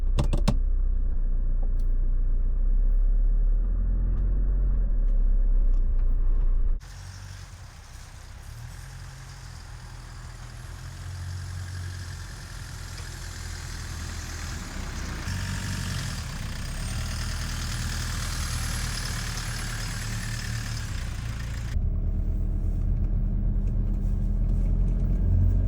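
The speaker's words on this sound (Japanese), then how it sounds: "それではこの公園の駐車場の雪の上走行していきます。" A camper van engine runs steadily as the van drives over snow in a park car park, a close, continuous low rumble whose tone shifts into a rougher, noisier stretch while moving before settling again.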